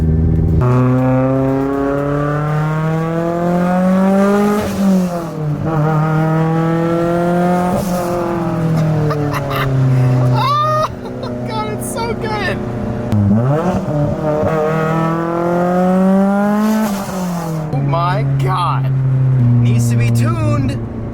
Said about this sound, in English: Let's hear some turbo noises.